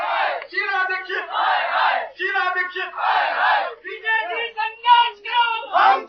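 A protesting crowd chants a political slogan in unison, short, loud, rhythmic phrases repeating over and over with brief gaps, many voices blended close by.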